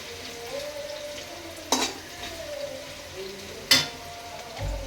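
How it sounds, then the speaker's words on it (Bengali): Onions sizzle in a pan at a low, steady hiss, broken by two sharp stirring scrapes, with faint bird cooing in the background. "এভাবে নেড়ে নেবে। নেড়ে পেঁয়াজগুলো লাল হচ্ছে না"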